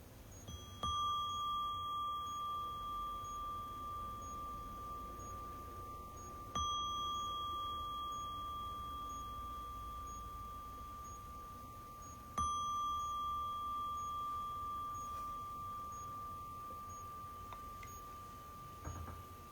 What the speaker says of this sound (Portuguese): E vamos terminando a nossa prática ao som do sino.